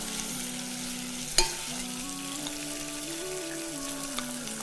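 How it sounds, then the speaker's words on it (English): Peppers go into tomato sauce sizzling in a pan, with a soft clatter early on and then a steady, quiet frying hiss with light stirring throughout. "And then I'll add my peppers."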